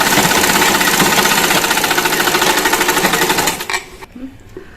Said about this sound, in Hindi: इसको डबल फोल्ड करते हुए हमें इस तरह से फोल्ड कर स्टिच कर लेंगे